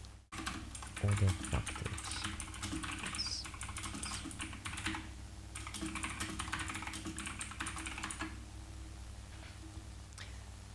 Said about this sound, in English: Yeah, furious typing